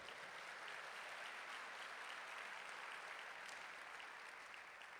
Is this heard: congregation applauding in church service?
yes